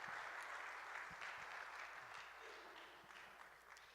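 Faint, distant applause from a church congregation welcoming a pastor to the front, a soft, even wash of clapping that fades slightly over its length with no speech.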